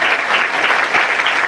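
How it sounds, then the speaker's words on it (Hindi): Church worship congregation clapping together, a dense, continuous burst of close applause throughout. "परमेश्वर के नाम से ताली बजा के परमेश्वर की महिमा करो"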